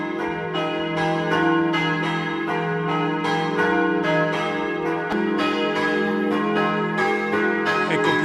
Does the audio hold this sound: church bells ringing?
yes